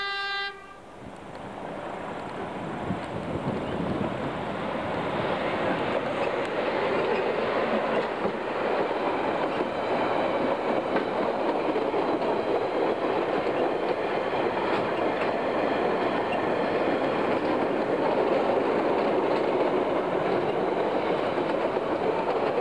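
A DV1 driving van, formerly a Y7, hauls a cement train past at close range, its steady rumble and clattering wheels loud and continuous, with a horn sounding briefly at the start.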